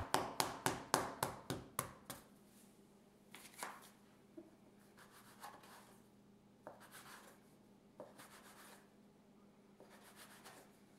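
Knife cutting soft pretzel dough into 1-inch bite-size pieces, opening with a quick run of about ten sharp, evenly spaced chops, then scattered single cuts against a quiet room background.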